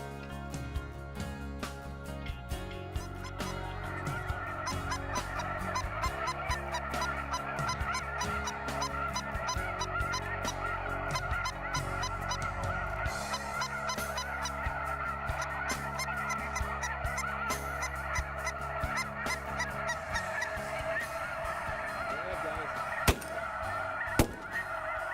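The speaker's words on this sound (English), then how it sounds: "saw several large groups of snow geese that traded back and forth between the fields" Several large flocks of snow geese honk continuously over farm fields, a dense overlapping chorus of nasal calls from many birds at moderate distance, with no talking.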